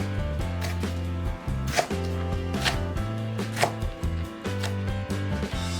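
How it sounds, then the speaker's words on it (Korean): A knife chops kimchi steadily on a cutting board, quick repeated thuds in an even rhythm, close and clear with no talking. "김치 반 주먹 정도는 무와 같은 크기로 썰어준다"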